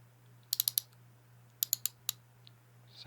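A fine-tooth ratchet from a Pittsburgh pass-through socket set clicks in two quick bursts of sharp, close ticks, about four then five clicks, in a quiet room.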